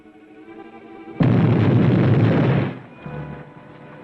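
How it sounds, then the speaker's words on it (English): Explosion beneath a bank, staged as a sound effect in a 1940s mystery film: a sudden, loud, roaring blast that holds for over a second, then fades into a low, rumbling tail. "Explosion. Beneath bank."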